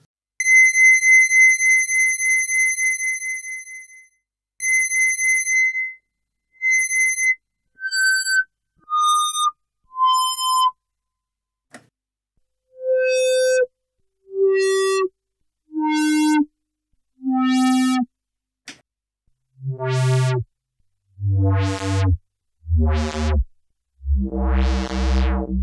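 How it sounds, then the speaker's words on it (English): Resonant beeps and pings from an ARP Odyssey synthesizer filter with its resonance raised, starting as high, thin tones and stepping down through shorter, lower, fuller notes with gaps of silence between them. "bringing the resonance up attenuates the low frequencies, which is a bit of a shame because it can thin out the sound"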